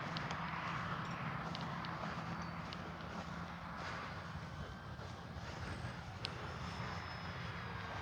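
Model-aircraft engine of a radio-controlled F4U Corsair warbird flying on a rainy day, a faint steady drone from a distance that holds without a break, with rain ambience behind it.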